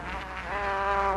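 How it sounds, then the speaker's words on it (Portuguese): A fly buzzing close by, a steady whining drone that rises slightly in pitch and grows a little louder over about a second, with no talk. "O tamanho dessa mosca, cara."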